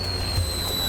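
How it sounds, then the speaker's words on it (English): Fireworks go off during fireworks season, heard as a low, muffled boom amid steady background noise with a faint high tone, brief and fairly distant. "It's fireworks season."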